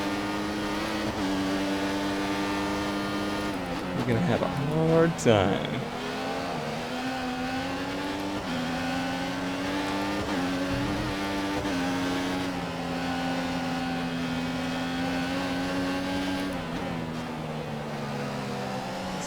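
A Formula One car's engine in the F1 2014 racing video game whines at high revs through the Bahrain qualifying session, a sustained buzzing drone that climbs and drops with gear changes, with one sharp swell midway and a brief spoken line from a teammate.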